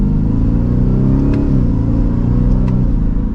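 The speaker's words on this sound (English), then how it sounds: "we'll do a mild acceleration again" A 2024 Ford F-150 Raptor R pulls away under mild acceleration, its engine and exhaust a steady deep rumble that rises gently in pitch, loud and close throughout with no talking.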